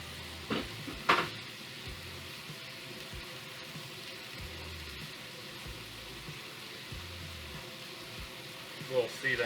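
Lemon juice poured into a hot pan while cooking cauliflower steak with beurre blanc brings a soft, continuous sizzle throughout, with a few sharp clatters at the start and end and faint background noise.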